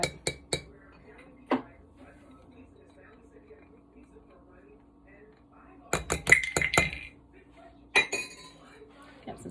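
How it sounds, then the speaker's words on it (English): Dishes and cutlery clink and clatter in a home kitchen, with a few sharp taps early on and then a busier cluster of ringing knocks. The sounds are close and fairly quiet, separated by near-silent pauses. "Got some dishes to do."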